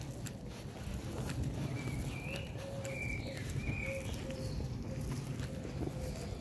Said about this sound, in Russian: Слышите пение птиц?